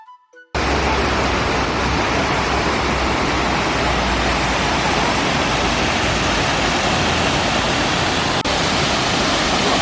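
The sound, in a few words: Düden waterfall in Antalya, Turkey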